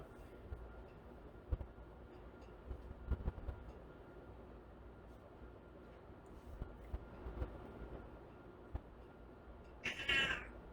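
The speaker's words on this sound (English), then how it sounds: "And my cat's woken up." A house cat meows once near the end, a short rising cry over a steady low room hum and scattered faint clicks and knocks.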